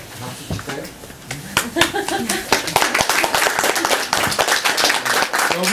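A small class at a seal-carving lecture breaks into clapping, uneven hand claps building from sparse to a fuller round of applause, close and fairly loud, with a voice speaking over the start.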